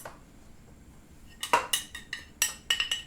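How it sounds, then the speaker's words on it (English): Cookie batter for gluten-free crème brûlée sugar cookies is mixed in a bowl, heard as a run of quick, close clinks and scrapes of a utensil against the bowl after a quiet start. "And I'm going to mix this up."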